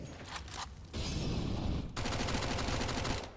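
Rapid bursts of gunfire in the video game CS:GO fire in quick succession: a short volley, then two sustained rattling strings of shots, loud and close.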